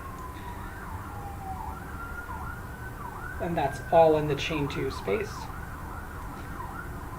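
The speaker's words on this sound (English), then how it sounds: "Sorry if you can hear the sirens outside." A wailing emergency siren rises and falls repeatedly from outside, swelling louder for a moment while a person talks nearby.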